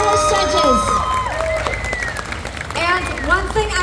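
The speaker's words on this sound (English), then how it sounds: "Round of applause for all of these lovely ladies and our fabulous judges" An audience at a pinup pageant during a tattoo convention applauds and cheers for the contestants and judges. Clapping and whoops are heard alongside voices and the host talking over the crowd.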